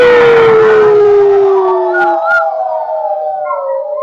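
An audience imitates a loud wolf howl at a storytelling performance, many voices joining in a long descending howl that breaks into scattered higher yips and trailing calls.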